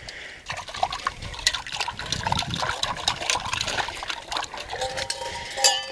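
Water runs from the tap of a rainwater tank in uneven, close-up trickles and splashes, sputtering at first as rust clears from the pipe.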